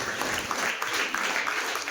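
An audience of students claps their hands together in a dense, steady burst of applause that lasts about two seconds, at an even moderate volume with no pause.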